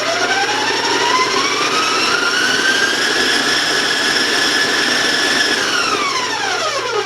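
An electric stand mixer runs at high speed, creaming butter with a quarter cup of powdered sugar for snowball meltaway cookies. It whines loud and steady, its pitch climbing then holding before dropping off at the end.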